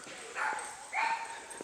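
A dog at a campground site gives two short barks, moderately loud and a little distant, with quiet outdoor ambience between them.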